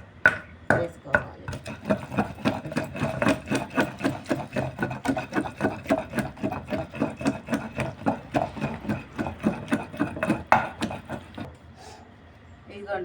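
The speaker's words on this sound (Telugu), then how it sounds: "ఇది కొంచెం గట్టిగా ఉంది కదా చట్నీ, అందుకనే ఇప్పుడు నూరుతున్నాను" Green chilli and tomato chutney with shallots and coriander being ground by hand, close by, in steady rhythmic strokes of rubbing and crushing, roughly three per second for the whole stretch before easing off at the end.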